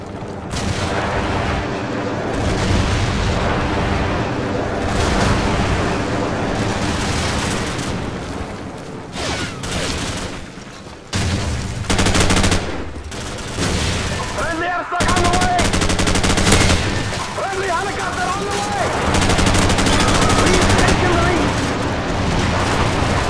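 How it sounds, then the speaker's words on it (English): A friendly airstrike in a shooter video game brings loud, continuous machine-gun fire and blasts that keep going throughout, with brief drops in the noise and an announcer-like voice calling out partway through. "Friendly airstrike on the way!"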